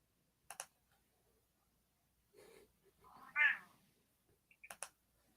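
A house cat gives a single short, close meow amid quiet surroundings, bracketed by a few faint clicking taps before and after.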